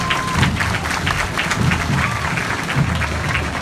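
Crowd applause at a September 7 Independence Day school parade in Granja, Ceará, Brazil, a loud continuous patter of clapping with a voice speaking underneath and faint crowd noise around it.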